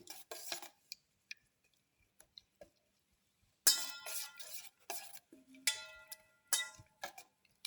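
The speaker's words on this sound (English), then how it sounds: "Thoroughly mix. Fenugreek leaves with the mixture." Fenugreek leaves are stirred into a beaten egg mixture for a pepper omelette, with a utensil clinking and scraping against a bowl in short, close bursts separated by quiet pauses.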